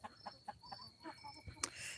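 Young chickens give soft, quiet clucks in a quick series of short bursts, faint and a little distant, with a sharper peep near the end.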